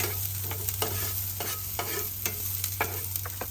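Garlic sizzling and frying in a pan, a continuous crackle broken by repeated scraping stir strokes at an uneven rhythm, close up with no talk.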